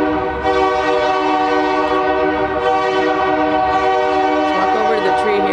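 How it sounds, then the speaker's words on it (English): A train passes close by on a city street at Jack London Square, with a long, loud horn blast sustained over the rumble of its wheels. "Have a train in the middle of a city street."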